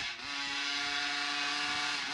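An RCMAX 80cc gas engine in a Raminator RC monster truck runs at high revs, a sustained, buzzing whine with a steady pitch, close and loud for a couple of seconds.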